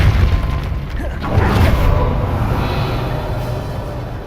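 Depulso spell blast in the video game Hogwarts Legacy, a heavy booming whoosh that swells early on then rolls into a long, fading rumble, loud and close.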